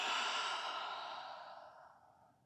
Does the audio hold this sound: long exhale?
yes